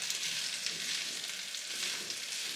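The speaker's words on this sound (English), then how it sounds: "the frying pan starts to sizzle" Vegetables sizzle steadily in a hot pan, a bright crackling hiss with small pops, close and continuous.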